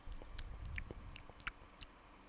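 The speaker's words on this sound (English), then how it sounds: "that thing sounds like chewing" Wet, squishy chewing from an alien creature in the video game Signal Simulator, a quick series of soft smacking bites at low volume, close and alone.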